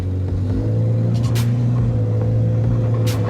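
Off-road vehicle driving through mud in two-wheel drive, its engine a steady low rumble throughout as the wheels begin to slip and spin, with brief hissing bursts over the constant drone.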